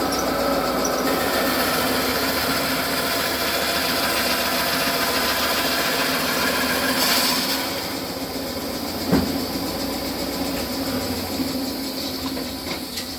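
A homemade bandsaw fitted with a hand-sharpened blade makes a cross cut, giving a steady loud whirring drone that drops off partway through, followed by a sharp knock.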